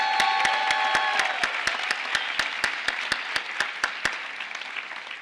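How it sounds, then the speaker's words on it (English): A commencement audience at Bloomfield College's 150th ceremony applauds, sharp rhythmic claps standing out over a dense wash of clapping that gradually thins and fades over a few seconds, with no talking. "Let's give him a round of applause."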